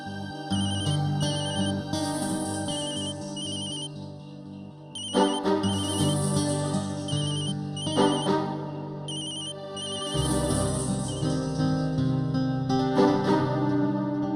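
A telephone ringtone plays, a bright repeating electronic melody that rings several times in a steady pattern, loud and alone with no talk over it.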